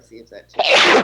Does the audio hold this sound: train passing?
no